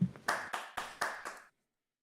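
Five crisp hand claps at an even, quick pace, close by, then silence.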